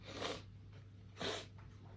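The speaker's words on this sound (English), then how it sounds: "I'm really sorry for my like disgusting sniffles" Two wet nasal sniffs about a second apart, close and fairly soft, over a low steady hum with no talking.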